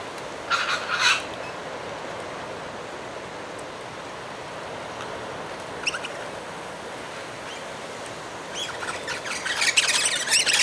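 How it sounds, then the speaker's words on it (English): Birds calling at Loch Sport while being fed close by, squawking and gobbling bursts at the start, midway and building near the end, over a constant outdoor hiss. "I'm probably no more than 10 to 15 feet away from this bird."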